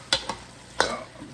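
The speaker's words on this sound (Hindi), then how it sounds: "मेक श्योर, बट कोई 30 सेकेंड आपने पकाना है।" Honey garlic chicken stirred in a hot pan, with a few short scraping stir strokes over a faint steady sizzle, close and fairly quiet.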